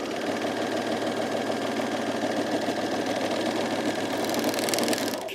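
Sewing machine running steadily while stitching a seam on a button-down shirt, with its thread not seated in the tension disc, a close continuous mechanical hum and rapid needle chatter lasting several seconds, no talking.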